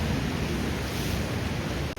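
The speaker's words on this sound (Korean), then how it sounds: "파도 소리와 함께 들리는 몽돌 굴러가는 소리가 좋습니다." Ocean waves wash over a pebble beach on the Korean east coast, a dense, steady roar of surf with a continuous rolling hiss of stones, loud and close throughout with no voices.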